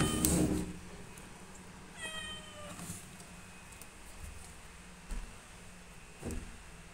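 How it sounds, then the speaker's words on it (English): A cat lets out one short, fairly faint meow indoors, with a few soft knocks and handling noises around it. "What are you meowing for?"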